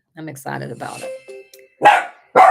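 Three dachshunds at home let out two loud, sharp barks close by, right after a short stretch of people talking.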